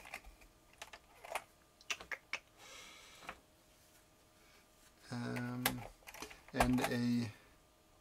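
Sparse, crisp key clicks come from a Cherry G81-1K keyboard with a DIN plug and classic beige double-shot keycaps. A few irregular strokes are followed by a person talking briefly.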